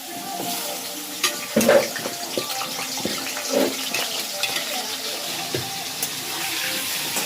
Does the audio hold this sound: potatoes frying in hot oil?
yes